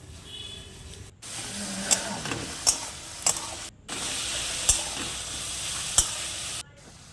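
Rice sizzles and fries in a pan while being stirred, a steady hiss broken by sharp scraping clacks of the utensil against the pan and brief cuts of silence.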